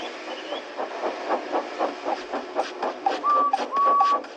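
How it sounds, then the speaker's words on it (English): A steam locomotive chuffs in a steady, even rhythm of soft puffs, with a couple of short whistle-like tones near the end. "made lots of steam, and Edward puffed away"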